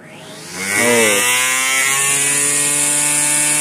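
A 48V electric lawn mower motor spins up from a low whine, its pitch gliding upward over the first second before settling into a loud, steady high-pitched electric hum that holds evenly to the end.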